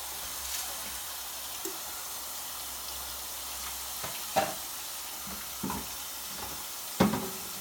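An egg fries in a pan with a soft steady sizzle beneath a few sharp clinks and scrapes of utensils, close and fairly quiet, with no talk.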